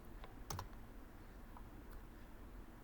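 Keystrokes on a computer keyboard as a search for a media player is entered: a few quick, faint clicks clustered near the start, then sparse taps over a low steady background hum, no talking.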